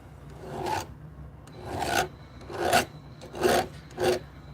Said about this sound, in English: take the little wire wheel on the Dremel and clean out the files